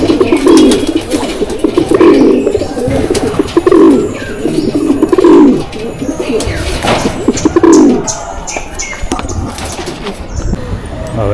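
Pigeons in a champion racing loft give repeated low, throaty coos in bursts, close and fairly loud, with faint rustling and background voices in between.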